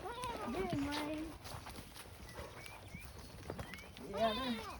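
Goats bleat on a farm in wavering cries near the start and again at the end, with dogs being worked nearby, footsteps and a person talking over the animals throughout.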